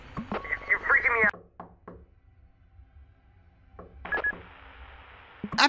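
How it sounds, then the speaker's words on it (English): Sharp knocks at a door in the horror video game Fears to Fathom, a few distinct hard raps separated by near silence, following a stretch of speech and electronic tones at the start. "the knock at the door"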